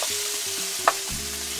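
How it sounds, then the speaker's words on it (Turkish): Vegetables sizzle steadily in a hot pan in a caravan kitchen, with a brief clack of a utensil partway through and a low hum beneath. "Diğer sebzeleri kızarttık"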